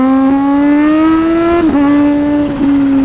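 A 1000cc-plus sport motorcycle engine is held at high revs under full throttle, a loud, steady, tonal drone with two brief dips before it settles back to the same pitch.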